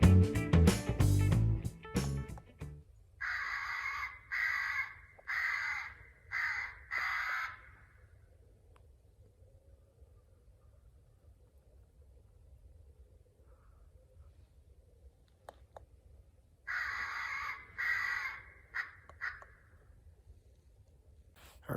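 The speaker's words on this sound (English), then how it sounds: "Just starting and stopping my crow in distress call." A crow distress call played through a caller during a crow hunt gives harsh, repeated caws in two clusters of bursts, loud against a quiet outdoor background with long pauses between.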